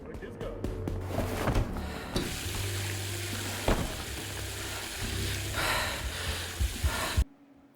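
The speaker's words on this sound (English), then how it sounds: "I wonder why he turns the faucet on." A faucet runs water into a sink, a steady rushing stream with clattering and sizzle-like hiss, heard alone and cutting off abruptly near the end.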